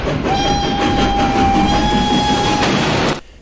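A train runs on rails, carrying children, with a loud continuous rolling rumble, steady clatter and a long sustained high whistle-like squeal that fades out abruptly at the end.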